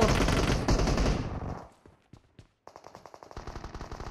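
Automatic gunfire in PUBG Mobile, a dense loud burst of rapid shots that stops abruptly, followed by a short lull and then a second stretch of quicker, lighter shots.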